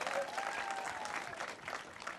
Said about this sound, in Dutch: Alina, dit verdient een applaus